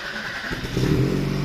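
A car with a stock engine and an Akrapovic-style aftermarket exhaust fitted at a repair shop rumbles steadily, then the deep exhaust note swells as the engine revs up, loud and close.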